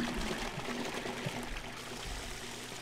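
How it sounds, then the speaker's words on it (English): A sink tap runs in the video game Max Payne, giving a steady, close stream of pouring water with a faint gurgle and no other sounds. "Oh, and you can turn on the sink, too."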